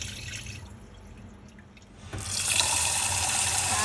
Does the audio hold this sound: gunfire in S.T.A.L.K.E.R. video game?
no